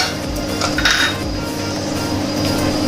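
Besan laddu mixture with magaz seeds is stirred in a pan, a short run of metallic scraping and clinks of a spoon against the pan, close and moderately loud, without speech.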